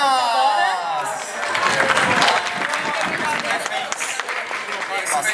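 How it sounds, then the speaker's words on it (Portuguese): Audience applause at an anime convention award ceremony in summer 2015, a busy wash of clapping and crowd noise with voices mixed in over the whole stretch. "Palmas!"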